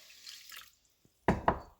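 Water poured into a deli container holding kosher salt: a soft trickle at the start, a brief pause, then two quick, louder splashes close by in a quiet room.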